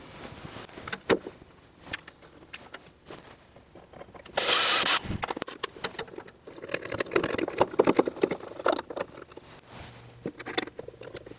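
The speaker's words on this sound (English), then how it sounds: "I'm going to drill some pilot holes and then put some screws in." A power drill boring pilot holes for the screws that mount a servo motor controller on an industrial sewing machine, a short loud whirring burst among scattered knocks and handling clatter nearby.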